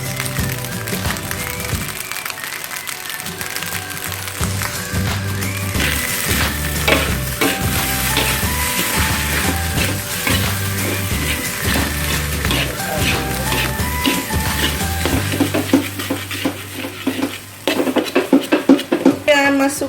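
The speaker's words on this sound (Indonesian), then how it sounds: "Kita aduk-aduk agar semuanya tercampur rata." Nasi goreng kampung (fried rice) is stirred and tossed in a sizzling frying pan, with continuous frying hiss and repeated scraping strokes of the utensil against the pan while a voice talks at times.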